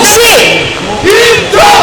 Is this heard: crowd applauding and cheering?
yes